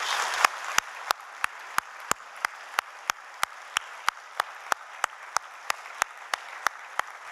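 A church congregation claps after a baptism service, the claps landing in a steady, even rhythm over a soft background hiss.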